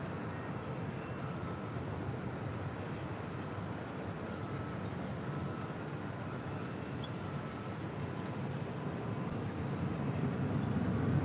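A DHL cargo jet operated by Polar Air Cargo departs LAX for Leipzig, heard as a distant, steady broadband jet roar that swells slightly toward the end, without talk.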